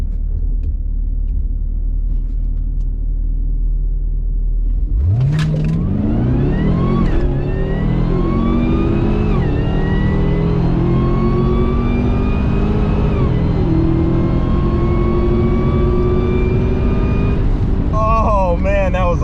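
A Cadillac CTS-V wagon running E85 launches down a drag strip: a low idle rumble gives way to a loud, sustained engine roar that climbs steadily in pitch through the gears and holds up close for the rest of the run.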